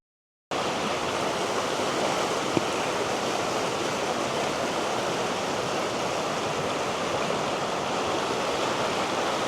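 Sabbaday Falls roaring as a steady, loud wash of rushing water, constant and close, with no voices.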